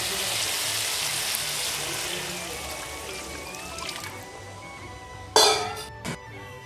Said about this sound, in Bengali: এখন এর মধ্যে আমি জল দিয়ে দেবো।